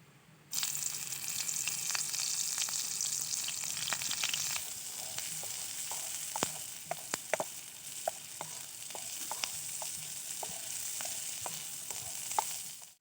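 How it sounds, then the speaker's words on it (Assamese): Onions frying in mustard oil in a pan for an egg dish, a steady loud sizzle running throughout with scattered sharp crackles and pops, no talking. "দি পিঁয়াজখিনি ভালদৰে ভাজি ল'ম"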